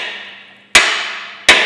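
Two sharp metallic hammer blows strike a socket held against the collar of a rear subframe bush on a Ford Mondeo Mk3, each ringing and decaying, spaced about three quarters of a second apart.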